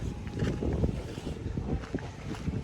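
Steady outdoor wind gusts buffet the microphone around a tent site, a continuous rushing rumble with no voices.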